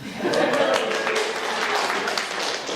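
Steady crowd applause, a dense wash of many hands clapping at once, sustained at even loudness throughout.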